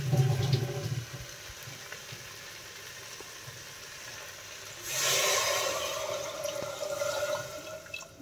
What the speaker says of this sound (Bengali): এরপরে যেটা করতে হবে সেটা হচ্ছে এর মধ্যে দিতে হবে পরিমাণ মতো জল